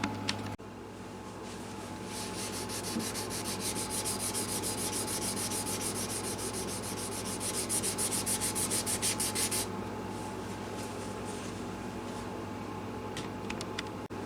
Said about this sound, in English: I'm gonna wet sand that.